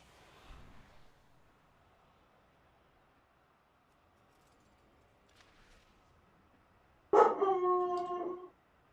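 A dog howls in a short, loud burst of rising, wavering tones near the end, after faint low woofs and quiet background earlier.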